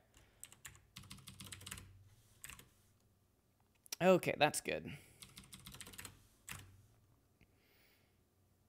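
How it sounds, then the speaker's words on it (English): Clicky typing on a Das keyboard with Cherry MX Blue switches comes in quiet, irregular bursts of keystrokes, with a person briefly talking partway through. "It's a Das keyboard with uh, Cherry MX Blues."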